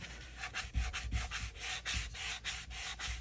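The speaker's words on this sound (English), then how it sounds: "I'm taking a sanding block," A sanding block rubs back and forth over paper for a junk journal envelope, a soft rhythmic scraping of about a stroke every third of a second, close and quiet.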